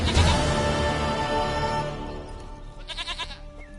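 A goat bleats in the video game Witcher 3, a loud, wavering bleat at the start, then a brief quieter bleat later against a faint background.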